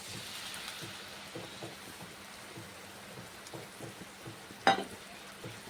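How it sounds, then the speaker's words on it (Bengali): Coconut milk hits frying spiced masala for a rohu fish malaikari, giving a soft, steady sizzle and bubbling close by, quiet overall, with one sharp clink near the end. "তো এই নারকেল দুধটা এখন আমি দিয়ে দিচ্ছি।"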